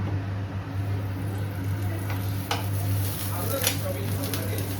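Paratha frying in a little oil in a pan, a soft continuous sizzle with a low steady hum and a few faint clinks of utensils.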